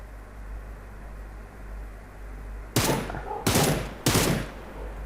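Three loud bursts of gunfire in PUBG Lite crack out close by in quick succession over a steady low background hum, each shot sharp and ringing briefly.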